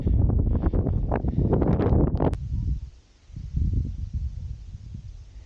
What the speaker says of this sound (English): it's really windy and it's really chilly